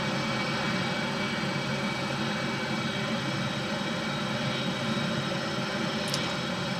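FA-18 Hornet jet cold start in a flight simulator game, a steady broadband whine and rumble of the engine spooling, constant and loud with no talk.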